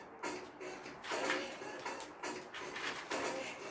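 Adhesive tape is pulled off the roll in several rasping, ripping bursts, close up and fairly quiet, with no talking.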